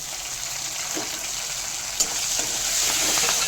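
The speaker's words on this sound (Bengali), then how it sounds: "টমেটোটা ভালো মতো করে ভেজে নিচ্ছি।" Tomatoes fry with garlic and onion in a pan for dal fry, giving a steady, close sizzle with no talk and a faint knock partway through.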